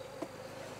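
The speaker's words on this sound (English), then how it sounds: "Okay, so about three frames of bees, guys." Honey bees during a swarm trap transfer into frames: a steady close insect hum, continuous and moderately loud, with no talk.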